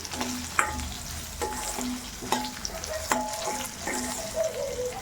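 Green chillies and cumin fry in a pan over a low flame, a gentle continuous sizzle broken by repeated scraping and clinking strokes of a spatula stirring, close and without speech.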